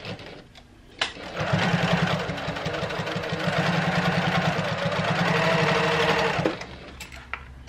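Close up, a Janome HD9 sewing machine bastes fabric in one continuous run of about five seconds, a fast, even mechanical whir and clatter that starts and stops cleanly, with quiet handling sounds before and after.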